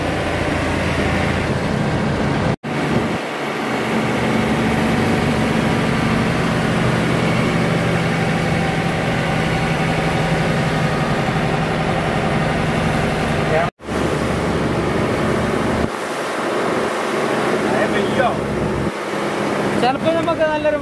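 Steady engine drone and air-conditioning blower hum fill a lorry cab hauling 10,000 kg of coffee through Bathery town. The sound is close and continuous, with two brief dropouts, and someone talks over it.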